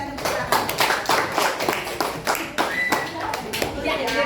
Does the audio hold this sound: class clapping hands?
yes